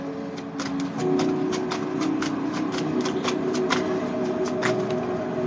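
A deck of reading cards is shuffled up close, a quick run of crisp riffling flicks over a low steady background hum.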